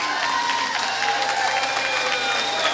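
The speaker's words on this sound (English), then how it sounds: "So the crowd picks it up and cheering on Andrew Burnstorm in lane 3" A swimming meet crowd at a wheelchair games pool applauds and cheers steadily, a dense wash of clapping and shouts echoing in an indoor natatorium, sustained and fairly loud for the whole moment.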